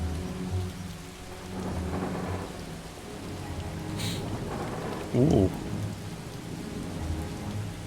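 Steady rain with rolling thunder in the video game Far From Noise, a continuous wash of rainfall under deep rumbles, with a brief voiced exclamation partway through.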